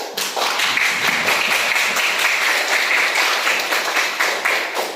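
An audience claps together in a room, steady dense applause sustained at full loudness for the whole stretch with no talk over it.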